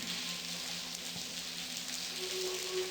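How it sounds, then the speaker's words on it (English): Steady rain in the Blackwell Convergence video game, a continuous even hiss that holds throughout with no voices over it. "We got some rain ASMR going on right now."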